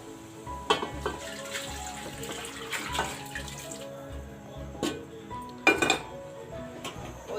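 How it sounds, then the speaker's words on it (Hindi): Cooked beef and its broth are poured into a pot for a beef yakhni pulao, with sloshing liquid, wet splashes and intermittent metallic clinks of utensils against the pot, close up and without speech. "अब ये हम तमाम गोश्त और सूप इसके अंदर डाल देंगे"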